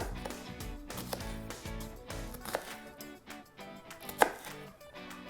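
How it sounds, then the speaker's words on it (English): A knife chops a shallot into thin lengthwise strips on a board, a quick run of crisp, close chopping taps over soft background music. "cut the shallot right down the length, and then cut little strips within it"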